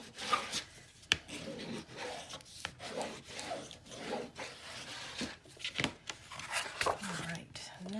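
A brush is rubbed firmly over paper while a mini album is being made, a near series of soft, dry rasping strokes in an irregular rhythm, with a few sharper taps between them.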